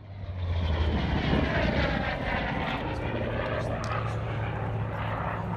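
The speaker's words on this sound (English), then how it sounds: "This is the last single piston engine fighter designed and manufactured by Grumman." A Grumman Bearcat single piston engine fighter plane drones loudly overhead at the Flying Legends 2018 airshow at Duxford, its engine swelling then holding steady with a low hum beneath.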